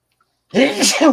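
A single sharp sneeze bursts out after a moment of silence, loud and close.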